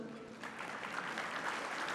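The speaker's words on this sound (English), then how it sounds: "stay standing till we give them a well-deserved applause" An audience applauds at a civic ceremony honoring city officials, including the mayor, with a steady wash of clapping that holds at an even level for the whole stretch, fairly close and dense.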